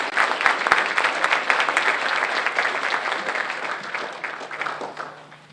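An audience at an honor society ceremony applauds, dense clapping from many hands that swells early and gradually thins out over several seconds.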